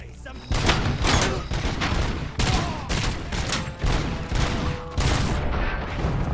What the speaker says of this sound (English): I just blew myself up or something.